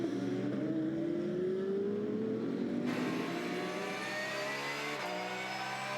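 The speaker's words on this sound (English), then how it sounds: "Cars accelerating away." GT race cars at Hockenheimring in an ADAC GT Masters race accelerate away out of the hairpin in a loud, steady engine roar that rises in pitch and shifts up through the gears, with no talk.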